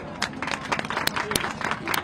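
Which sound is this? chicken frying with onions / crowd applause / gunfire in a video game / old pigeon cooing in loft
crowd applause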